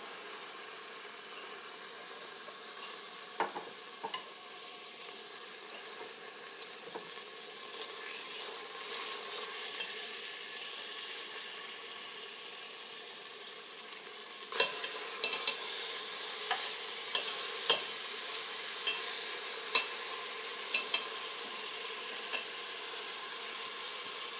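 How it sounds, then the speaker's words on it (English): Beef browning in a pan, a steady sizzle running throughout the clip, joined partway through by a series of sharp clicks and taps as the meat is moved around, with no one speaking. "I'm going to continue browning the rest of the meat"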